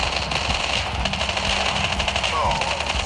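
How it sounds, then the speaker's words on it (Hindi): Rapid weapon fire in the mobile shooter game Call of Duty Mobile, a loud steady stream of shots over a busy game soundtrack, with a voice talking over it. "शॉट गन से मारा एक बार में खत्म कर दिया"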